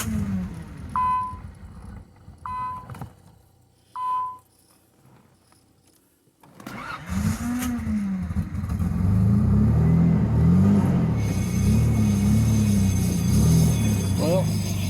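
A Z car's engine cranks and catches after a few short starter attempts, then settles into a steady idle with revs rising and falling, loud and close, with someone talking over it.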